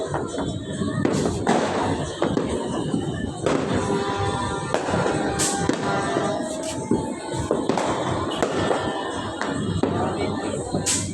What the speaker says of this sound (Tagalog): Paramihan na ng paputok par.